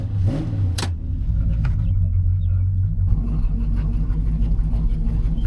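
A Ford F250 pickup with a rebuilt carburetor rumbles steadily on a test drive, its engine a continuous low drone heard from inside the cab with no talking.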